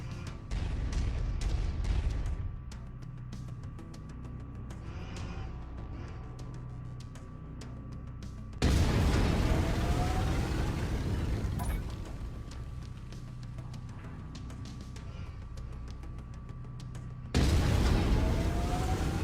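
Autocannon fire and explosions in MechWarrior 5 on PS4 Pro include two loud, booming blasts with a rumbling tail, set among ongoing mechanical battle noise and scattered shots.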